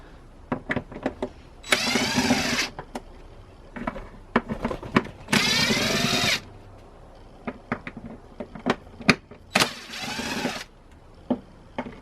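Cordless power driver backing out T25 screws from the airbox top cover of a BMW N52 engine, three sustained whirring bursts of a few seconds each amid light clicks and handling noise, close and fairly loud.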